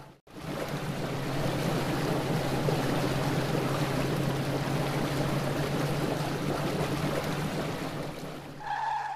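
A cartoon boat moves across water with a steady engine drone and broad splashing wash, continuous and fairly close, easing off near the end where a short high tone appears.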